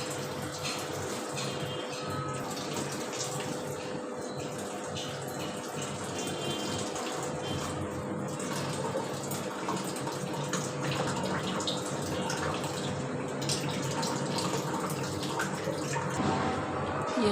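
Running tap water pours steadily into a strainer over a kitchen sink while food is rinsed, a continuous close rushing splash with faint shifts and clinks throughout.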